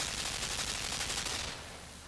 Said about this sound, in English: machine gun of death with laser connectivity